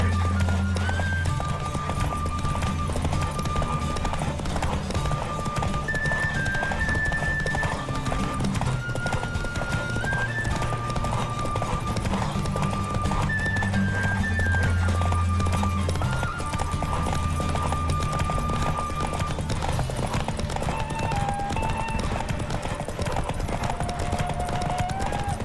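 Roach the horse gallops in The Witcher 3, with a brisk, continuous clip-clop of hooves and an occasional whinny over a steady game soundscape with a tonal musical backdrop, lasting throughout.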